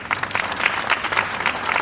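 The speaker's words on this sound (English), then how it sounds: "Let's give her a nice round of applause" Applause from an audience at a 2023 Jordanian flag raising ceremony in Yonkers: a steady, dense clapping from a crowd, fairly close and even in loudness throughout, with no speech over it.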